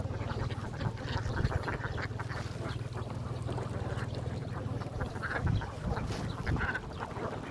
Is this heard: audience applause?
no